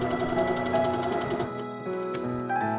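A sewing machine stitches bust lining darts with a 1 cm seam allowance, a close rapid mechanical whir that pauses briefly and restarts at a different speed.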